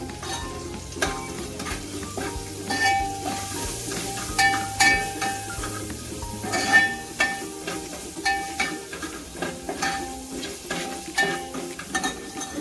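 A spoon scrapes and clinks against a pan while mustard seeds and tempering spices for radish curry sizzle in hot oil, the stirring strokes coming in uneven bursts, close by.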